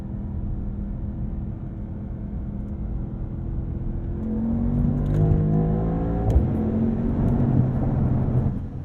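A 2023 Mercedes-AMG SL 63 being driven hard into a curve while braking on carbon ceramic brakes, its engine a loud, steady rumbling drone whose pitch sweeps up and down as the car scrubs speed and accelerates out.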